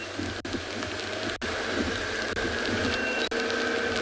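Steady rain falling during a sunrise safari drive in Djuma, South Africa, a constant close hiss of drops with a low rumble underneath and a few brief dips, no voices over it.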